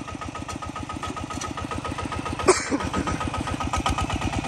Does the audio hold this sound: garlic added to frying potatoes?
no